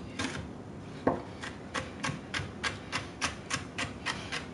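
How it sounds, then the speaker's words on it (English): A knife dices food on a cutting board while eggs Benedict is being prepared, giving a steady run of about a dozen crisp, close chops at an even rhythm, with one heavier knock near the start. "And we just finished dicing this up as well too."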